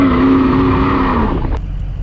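A 6.0 diesel pickup truck engine runs with a steady, close, loud rumble whose tone sinks slightly toward the end, with no voices over it.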